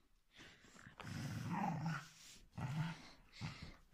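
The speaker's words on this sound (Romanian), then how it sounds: "ea nu o dă din cap și mârâie" A small dog snarls close by in a stolen-slipper tug, with low rumbling growls that swell and break across several bursts and faint whiny yips, and no voices over it.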